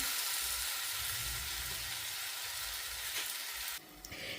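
Sri Lankan pineapple curry simmers in a pot over a low flame, giving a steady soft sizzle and bubbling hiss throughout that dips slightly near the end.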